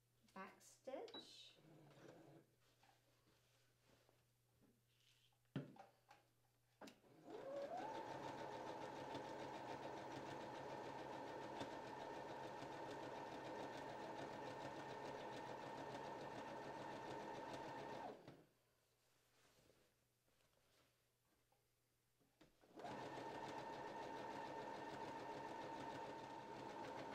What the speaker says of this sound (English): So I'm going to start at the hem and sew up.